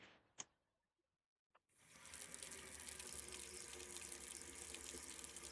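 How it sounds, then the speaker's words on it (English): Water runs steadily from a toilet in a quiet video game scene, starting after two brief knocks and a short silence, then a continuous, fairly faint rushing flow fills the rest. "I hear the faint sound of rolling water from a nearby toilet"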